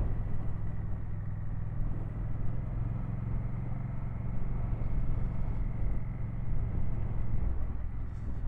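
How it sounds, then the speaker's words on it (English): Honda CMX1100 Rebel parallel-twin engine pulling steadily in third gear at low revs, a continuous deep rumble that stays fairly even throughout, heard close with wind and road noise and no talking. "You can drop the revs down quite low in third and fourth gear and it still pulls nicely."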